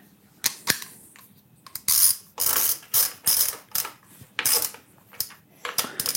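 Ratchet strap cinched down on a motorcycle trunk used for Dakar rally riding, a series of sharp metallic clicks and ratcheting bursts, close and loud, with short pauses between pulls.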